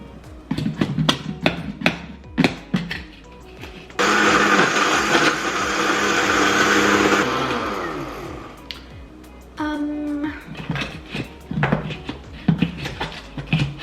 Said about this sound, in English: I think it's blended well now